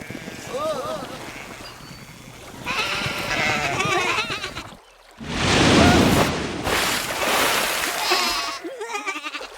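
Sheep bleat repeatedly in a Russian children's audio story about a dog on a beach, the animal calls rising over narration and background scoring, with a louder burst of noise midway.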